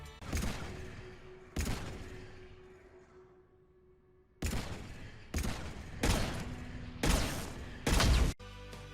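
Several loud pistol gunshots in Mass Effect 3, fired at a power generator, each a sharp blast with a ringing tail, spaced irregularly with a longer pause early on.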